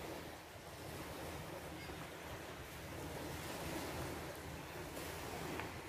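Ocean surf rolls in steadily at Licoson Beach in Mobo, Masbate, a soft continuous wash of waves with wind buffeting the microphone and no voices.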